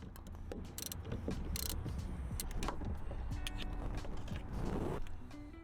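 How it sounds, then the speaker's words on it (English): An 8mm bracket bolt being removed from the antenna mount on a Jaguar XJ6, with quiet close ratcheting clicks, small metallic ticks and rustling in irregular bursts. "Remove the 8mm bracket bolt."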